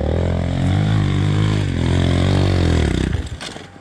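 An enduro motorcycle revs hard in sand, its loud, close engine whining and wavering in pitch for about three seconds before it breaks up into a sputtering, choppy rattle.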